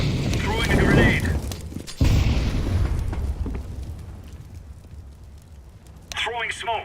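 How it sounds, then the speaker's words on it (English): A grenade blast in the Counter-Strike video game, a loud booming burst near the start followed by a sharp second boom with a rumbling tail that fades, with voices and game chatter over it. "Throwing a grenade!"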